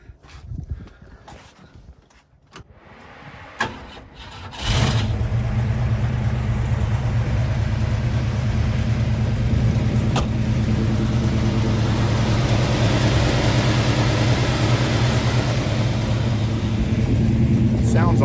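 A 1967 Mustang fastback restomod cranks and fires up, then settles into a loud, steady, rumbling idle that carries on alone for many seconds after some earlier handling sounds and voices.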